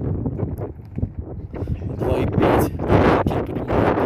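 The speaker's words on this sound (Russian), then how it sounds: "ужасно сильный ветер" Strong wind buffets the microphone in rough, roaring gusts that grow louder and more turbulent partway through.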